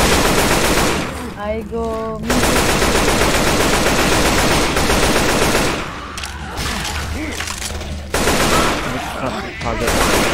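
Rapid automatic gunfire from Left 4 Dead 2 on a custom apocalypse map, loud, dense bursts nearly nonstop with brief gaps, while players shout over the shooting.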